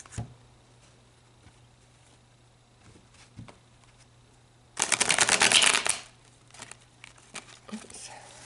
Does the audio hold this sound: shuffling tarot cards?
yes